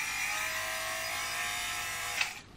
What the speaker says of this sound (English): It's just a fabric shaver, so it doesn't damage your clothes.